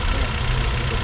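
A Hyundai Accent engine runs steadily at idle, a continuous low rumble with a faint knocking texture, close and unbroken, with no voices.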